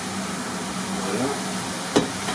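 Leeks sweating in butter in a pan, giving a steady, even sizzle and hiss, with a brief knock of a utensil near the end.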